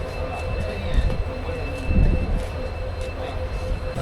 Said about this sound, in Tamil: நம்ம ட்ரெயின் ராமநாதபுரத்துக்கு கிளம்பியாச்சு